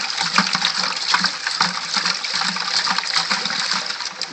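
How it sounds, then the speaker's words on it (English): A bucket holding water, sugar and yeast sloshes as it is shaken, producing close, continuous rhythmic splashing and gushing for a few seconds, with no talking. "Now what we're going to do is we're just going to shake the bucket up."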